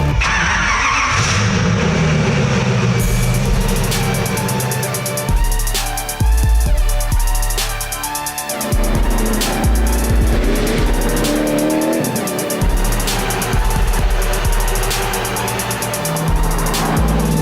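A Koenigsegg Trevita hypercar runs and revs hard, its engine note rising and falling with sharp gear changes and bursts of tire squeal, loud and close throughout.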